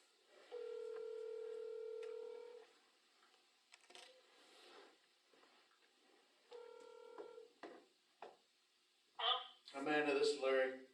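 Telephone keypad tones sound on a phone set to speaker to call Amanda: one long steady tone, then a few short beeps and clicks, all fairly quiet, before a voice starts speaking near the end.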